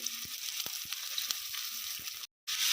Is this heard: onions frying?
yes